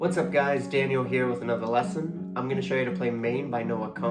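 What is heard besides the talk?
None of the usual background noises is heard.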